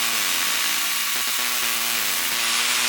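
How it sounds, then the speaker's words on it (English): A power tool cuts through a metal seatbelt buckle bracket in a Toyota Supra during a seat install, a steady loud grinding whine with harmonic tones running continuously throughout. "He's actually helping me cut this off of the seatbelt bracket"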